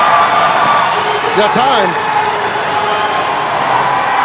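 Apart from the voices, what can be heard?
arena crowd cheering at strongman event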